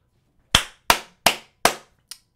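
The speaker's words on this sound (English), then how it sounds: "that's me applauding my dumbass government" Four sharp hand claps in a steady rhythm, followed by a fifth softer one, close and loud with no other sound.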